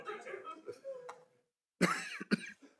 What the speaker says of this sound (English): I apologise in advance if I cough through most of this